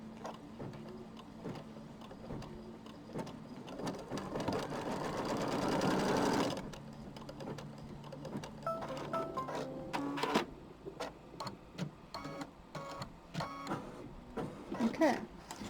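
An embroidery machine stitches tack-down lines for a square-in-a-square design. It starts with a steady whirring run that swells, then shifts to quicker clattering stitch bursts and clicks, close up, with a voice briefly heard.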